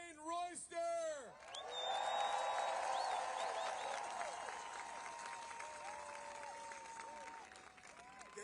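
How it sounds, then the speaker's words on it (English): Applause and cheering from an outdoor protest crowd in Washington, DC, rising after a brief spoken introduction into a broad, distant wash of clapping with whoops and whistles that slowly thins out. "please give a warm round of applause for Bishop Dwayne Royster"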